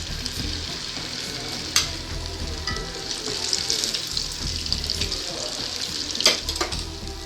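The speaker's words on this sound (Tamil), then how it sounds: "மீடியம் ஃப்ளேம்லேயே வச்சு ஃப்ரை பண்ணிட்டே இருங்க" Noodle pakoda deep-frying in oil over a medium flame, a steady crackling bubble with sharp scrapes and clinks of a ladle turning the pieces, close and continuous.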